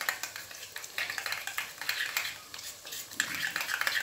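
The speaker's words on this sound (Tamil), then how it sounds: "இது ரெண்டும் நல்லா மிக்ஸ் பண்ணிக்கோங்க." Homemade garam masala and curd are mixed in a bowl for vegetable biryani, giving close, faint, irregular scraping and clinking of a spoon against the dish, repeated in short uneven strokes.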